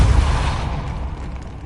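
Depulso force spell cast in Hogwarts Legacy, a short low booming burst that fades quickly into a rumbling tail.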